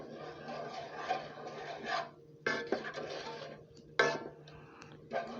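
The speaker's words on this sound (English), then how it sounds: "we're just going to stir" Spoon stirring creamy tomato basil pasta with garlic and oregano in a pot, a steady rasping scrape with a few sharper knocks against the pot.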